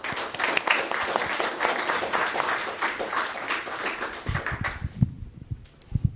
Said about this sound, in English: So if we could give both of these amazing people a round of applause, I would appreciate that very much